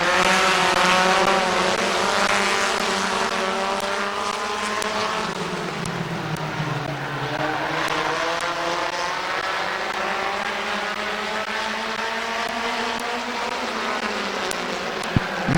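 Race cars roar around the oval at Midvale Speedway during a heat race, a loud continuous engine drone rising and falling in pitch as cars pass close by.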